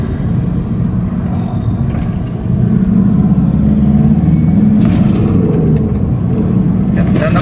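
Cars moving along a mountain road in Baguio City, a steady close engine rumble and road noise that rises slightly after the second second and holds loud throughout.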